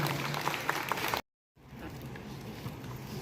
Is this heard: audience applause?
yes